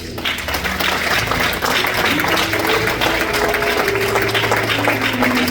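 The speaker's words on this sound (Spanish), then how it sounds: "Un fuerte aplauso." A church congregation applauds loudly and steadily, a dense wash of clapping that carries on without a break, with low musical tones and voices mixed in beneath it.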